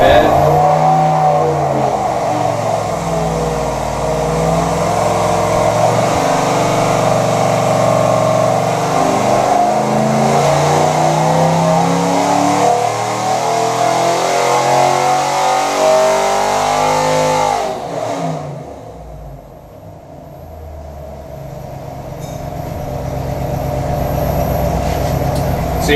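A car's engine revving up and accelerating, a loud rising and falling drone with climbing harmonics for most of the clip, then a brief drop-off before the engine builds again.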